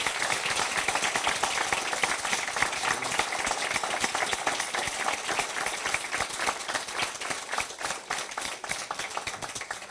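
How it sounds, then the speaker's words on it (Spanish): A large crowd applauds continuously, dense clapping that stays strong throughout and thins slightly toward the end. "un aplauso muy grande"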